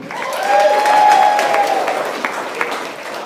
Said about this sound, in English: You guys make a lot of noise for Charles Pang.